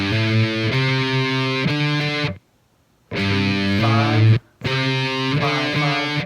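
A loud distorted electric guitar riff with hammered-on notes, played in three phrases separated by short silences.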